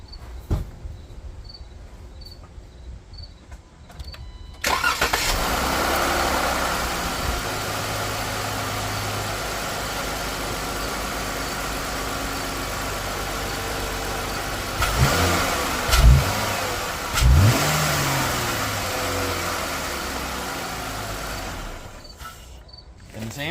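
Jeep Wrangler with its factory intake starts up and settles into a steady idle, with a couple of brief revs near the end; a quiet, even engine drone, fairly close.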